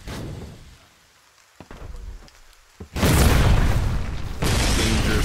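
Mortar shelling in the war game Foxhole: a few dull thumps, then a dense, loud roar of blasts and rumbling debris that holds steady to the end.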